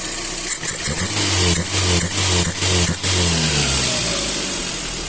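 The engine of a Slavuta car with a 1.2 engine and a Solex 21081 carburetor runs steadily nearby, its mid-pitched hum rising and falling with a few revs, no voices.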